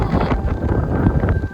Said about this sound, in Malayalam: എന്തോ പ്രത്യേക തരം കാറ്റ് വീശും പോലെ എനിക്ക് തോന്നി കേട്ടോ